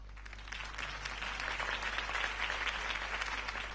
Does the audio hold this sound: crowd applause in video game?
yes